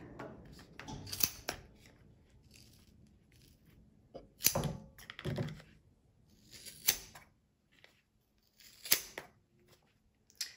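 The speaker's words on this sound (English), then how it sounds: "it can be a little tricky to cut through this just because there's so much yarn in there" Scissors snipping through the dense yarn of a handmade heart-shaped pom-pom, a series of separate crisp cuts spaced a second or two apart, close up and fairly quiet with no talking.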